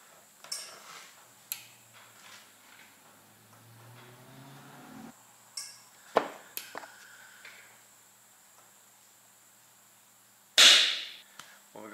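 A single small pop from an HHO gas detonation in a homemade pulse detonation engine, preceded by scattered clicks and ticks and a brief low hiss; the pop is sharp and near against a quiet background.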